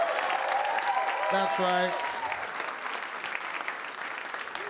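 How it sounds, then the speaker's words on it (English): Audience applause fills a comedy club, steady and dense clapping throughout, with a brief spoken voice rising over it early on. "how about a big round of applause for your staff working hard for you tonight?"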